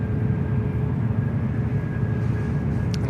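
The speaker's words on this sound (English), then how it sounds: "There's one of the beautiful A321 Neos just arrived there," An Airbus A321neo airliner arriving on runway 34 right at Sydney Airport gives off a steady, continuous engine roar, loud and broad, with no voices over it.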